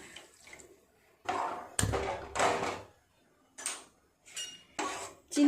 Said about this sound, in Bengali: এক বাটি চিনি নিলাম এই বাটিরই মাপ করে জল দিয়ে দেব দেড় বাটি জল দেব আরও এই হাফ বাটি দিয়ে দিলাম